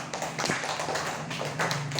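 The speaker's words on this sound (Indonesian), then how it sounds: "Ya, tepuk tangan." Classmates clap in a classroom, a quick run of close, crisp hand claps that is loud and fast and lasts about two seconds.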